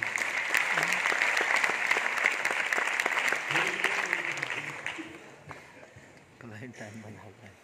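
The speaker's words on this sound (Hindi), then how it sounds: "जोरदार तालियां राजेश कुमार मोदी जी के लिए।" An audience at an anniversary celebration claps loudly for Rajesh Kumar Modi, dense applause that holds for several seconds before thinning out, while someone speaks over the fading claps.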